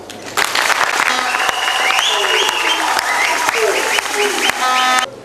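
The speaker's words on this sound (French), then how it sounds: "Si nous pouvons les remercier tous ensemble en l'applaudissant." An audience gives the patriarch Antoine Gizenga a loud, steady round of applause from many hands at once, lasting about five seconds, with voices mixed into the clapping.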